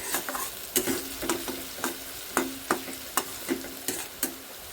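Chopped onion frying in a pan until soft, a continuous sizzle punctuated by regular, evenly spaced scrapes of a spatula against the pan, close and without any voice.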